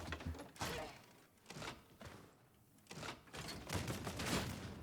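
Bolt gun emptied in a long mag dump in Warhammer 40K: Darktide, heavy game gunfire bursts repeating in rapid clusters across the whole stretch, loud and close with brief gaps between volleys.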